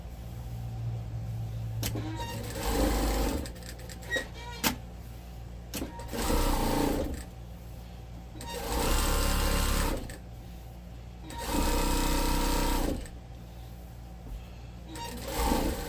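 A sewing machine top-stitches a necktie applique onto a quilt, running in several distinct whirring bursts separated by quieter pauses with faint handling noise.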